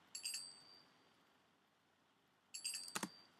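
A light, cymbal-like Middle Eastern percussion sound from a drum pattern plays as a soft metallic jingle, then returns after a pause with a few sharper clinking hits, faint and without voices.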